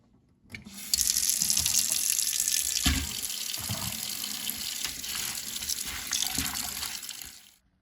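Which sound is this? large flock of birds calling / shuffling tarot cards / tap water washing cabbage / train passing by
tap water washing cabbage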